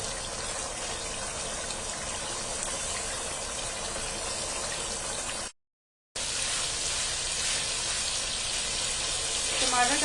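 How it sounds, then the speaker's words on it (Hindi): Tomato juices cooking off in a pan of chicken tikka over a full flame in a Pakistani home kitchen, heard as a loud, steady hiss and sizzle that stops briefly, then resumes and continues. "टमाटर का पानी खुश्क हो रहा है,"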